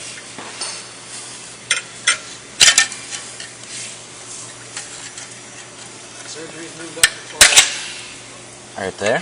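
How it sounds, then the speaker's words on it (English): A screwdriver pries small metal connecting springs loose, giving a few sharp, scattered clicks and snaps amid faint handling noise, with a person briefly speaking. "Grab your screwdriver and pop these little guys out right here."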